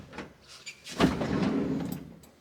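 A car's sliding side door rolls open with a single broad scraping rumble after a faint click, fairly close and loud, trailing off over about a second.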